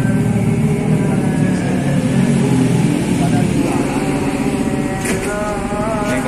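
Honda Beat motorcycle engine idling and puttering steadily at night while being loaded into a bus, close and continuous, with a voice talking over it.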